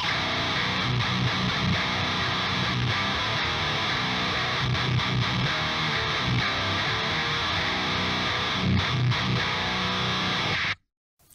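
Heavy, saturated electric guitar riffing through an Audiority Solidus VS8100 amp simulation with a death-metal chainsaw-style tone, dense and loud for about eleven seconds before cutting off abruptly.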